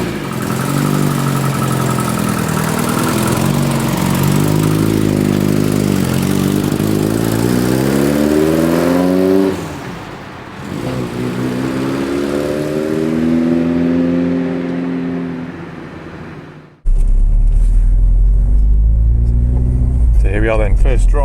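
A classic car with a freshly rebuilt engine on its first drive, the engine note rising and falling through repeated revving accelerations, loud and close, with a brief dip before the engine pulls again.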